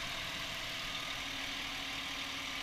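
2008 Ford Explorer Sport Trac 4x4 with a 4-liter engine idling under the open hood, a faint, steady hum with even low rumble and no talk.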